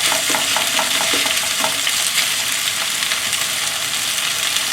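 Marinated meat coated in egg white and cornstarch stir-fried in a wok over high heat, with a dense constant sizzle and rhythmic scraping of a spatula stirring in the opening seconds.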